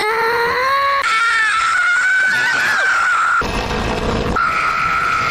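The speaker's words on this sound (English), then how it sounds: "Let's all scream together." Several voices screaming together in a loud, sustained, wavering group cry, with a shrill, tonal quality that shifts partway through, heard close and continuous with no pauses.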